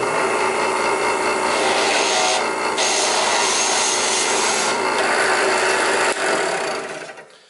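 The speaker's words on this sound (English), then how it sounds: "I'm going to first drill just a test hole" A power drill bores a test hole through wood backed by a board, a loud, continuous grinding whir with brief surges, close, winding down and stopping at the end.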